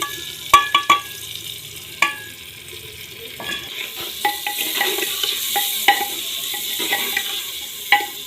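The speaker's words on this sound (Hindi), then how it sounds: "प्याज जो है ना ब्राउन हो चुके हैं, जल्दी करें, टमाटर डालें।" Tomatoes go into browned onions in a pan, frying with a steady sizzle while a utensil stirs and scrapes, sharp clinks against the pan recurring throughout.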